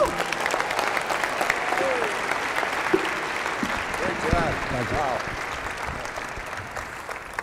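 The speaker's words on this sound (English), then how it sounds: "Can we please have another round of applause for Norm Brodsky, please?" Conference attendees give a keynote speaker a sustained round of applause, a steady dense clatter of many hands with scattered cheers, and some voices audible within it.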